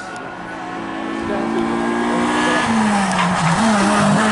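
Production-class race car climbing a hill at the Thereval Agneaux hill climb in 2022, its engine note loud and rising as it passes close by, with a sustained high whine that shifts pitch partway through.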